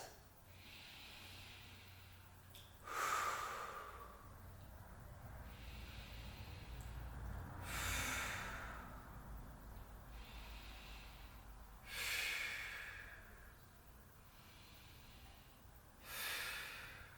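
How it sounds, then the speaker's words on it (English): Slow deep breaths during a held yoga pose, each long airy inhale or exhale arriving roughly every four to five seconds, close and soft against a quiet room with no talking. "5 deep breaths"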